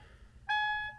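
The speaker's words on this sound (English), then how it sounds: "Is it gonna keep beeping at me?" A single electronic chime from a used project car's dashboard with a Starlink system, switched to accessory mode, a sharp tonal beep starting halfway through and ringing clearly before fading, close and alone over low background hum.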